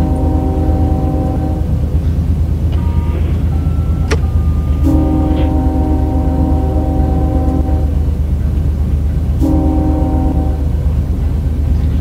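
A custom train horn sounds inside the Run8 train simulator, with several sustained blasts of varying length over the low, steady rumble of the locomotive.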